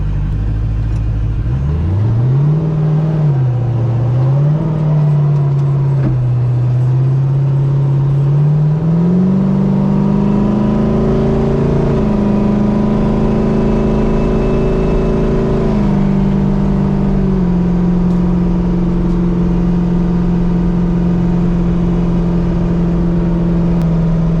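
A turbocharged LS-powered race car accelerates on a public street, its engine note loud and close, climbing steadily in pitch through a continuous pull with a brief dip and recovery, no voices over it.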